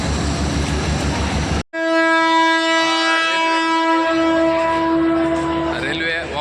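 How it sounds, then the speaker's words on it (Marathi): A train horn sounds loud and sustained after a burst of rumbling noise at Beed railway station, holding a steady tone with rising whistle-like overtones at the end. "आपण बघू शकता समोर रेल्वे"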